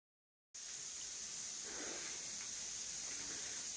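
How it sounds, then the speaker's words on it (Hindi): A pressure cooker holding tempered rice starts releasing steam with an abrupt, steady loud hiss after a brief silence, continuing unbroken to the end. "सीटी भी आ गई है कुकर में, क्योंकि मैंने ना कुकर में छोंके हैं चावल, तो सीटी आ गई है"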